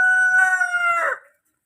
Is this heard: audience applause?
no